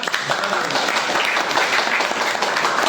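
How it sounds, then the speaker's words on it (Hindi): A crowd claps and applauds in a dense, steady burst of hand claps lasting a few seconds. "हम चाहते हैं कि उनके लिए एक बार जोरदार दिल से तालियां।"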